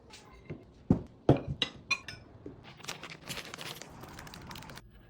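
Close clinks of dishes and utensils with soft scraping and rustling as Vietnamese spring roll ingredients are arranged onto plates.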